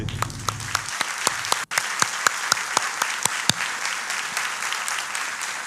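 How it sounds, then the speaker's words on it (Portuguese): An audience applauds a team, a thick, steady crowd of clapping with a few louder individual claps cutting through near the front, sustained for several seconds after a brief dip. "Eu acho que a equipe que me ajudou merece palmas."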